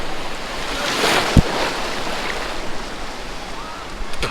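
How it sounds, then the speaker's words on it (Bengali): Sea waves wash onto the shore at Patuar Tek near Cox's Bazar with a continuous rolling surf and wind buffeting the microphone, plus a sharp knock partway through. "আসলে ঢেউয়ের কারণে ভিজে গেছে"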